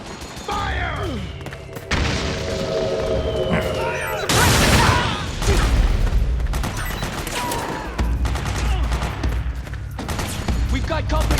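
Gunfire in Metal Gear Solid 4: dense bursts of shots and booming impacts during a firefight, loud and sustained, with shouted voices mixed in.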